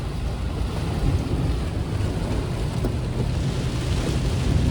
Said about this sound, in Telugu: ఎంత ఘోరమైన వర్షం నేను ఎక్కడ చూడలేదు